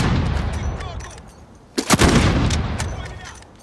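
Gunfire in Call of Duty: Modern Warfare, a sharp burst of several loud close shots after a low rumbling bed, followed by a rolling decaying tail.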